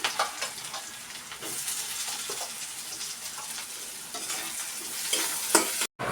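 Chopped onions fry in a pan after lentils (dal) are cooked, giving a steady broadband sizzle with occasional stirring scrapes throughout. A brief dropout comes near the end.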